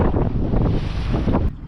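Strong wind buffets the microphone aboard a sailboat anchored in a bay, a loud, steady low roar with gusty swells and no voices.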